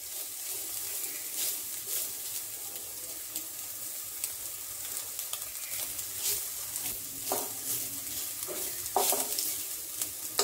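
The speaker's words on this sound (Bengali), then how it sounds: "দেখো চিকেনটা আমি একটু নাড়াচাড়া করে নিয়েছি" Chicken pieces for soup fry and get stirred in a pan, a soft, steady sizzle running throughout with occasional gentle scrapes of the spatula near the end, fairly quiet and without talk.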